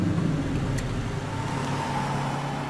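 Steady low engine drone of a car driving in Max Payne 3, continuous and moderately loud with a faint rising whine partway through, heard alone without talk.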